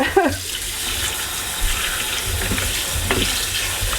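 Hot water drained from diced potatoes splashes and runs steadily into a kitchen sink, a close, continuous watery rush with a few sharper clinks and splashes.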